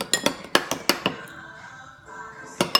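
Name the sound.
stirring slime mixture in a bowl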